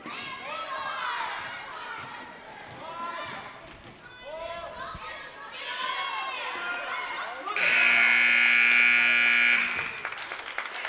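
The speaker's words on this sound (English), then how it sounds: "And there is the buzzer." An end-of-half buzzer sounds loud and sustained for about two seconds at a girls' high school basketball tournament game, following shoe squeaks, court noise and a commentator's voice.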